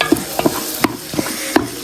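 Onions sautéing in a pan sizzle softly while a spoon scrapes and stirs them in about five quick, evenly spaced strokes, heard up close.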